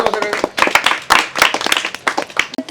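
A group of people clap their hands in quick, uneven bursts of sharp claps, close by, with voices mixed in among the clapping.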